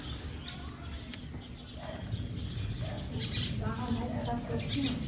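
Sparrows chirp with short, faint, scattered tweets and occasional quick flutters in a village setting, while people talk quietly nearby.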